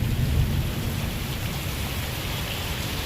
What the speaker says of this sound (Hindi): बहुत भयंकर बारिश हो रही है